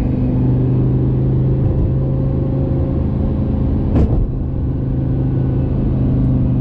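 Steady engine drone from inside a 2007 Lamborghini Gallardo 5.0L V10 coupe with e-gear transmission on the road, with a brief shift blip near the end, loud and continuous throughout.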